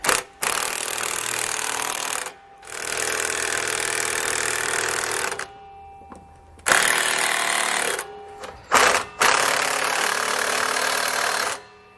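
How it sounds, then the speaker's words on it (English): Power tool snugging down rear anti-sway bar bracket hardware on a 2009 Workhorse W-Series vehicle, a loud whirring drive in several bursts of a few seconds, with short pauses and quick blips between them. "We'll go ahead and snug down all our hardware,"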